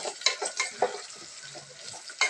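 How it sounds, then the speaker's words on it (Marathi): Cauliflower and peas being stirred into softened tomato in a pan for veg pulao: a series of scraping, clinking stirs over a light, intermittent sizzle, close by. "त्याच्यामध्ये आपण फ्लावर ॲड करू त्याचप्रमाणे वटाणा हे मिक्स करूया चांगलं"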